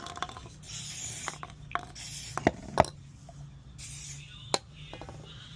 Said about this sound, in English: I'll just give them all a spray and run them up with the battery ratchet.